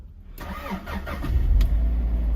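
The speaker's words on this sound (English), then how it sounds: "Engine." A car engine cranks and catches during a driving test, then settles into a loud, steady idle close by.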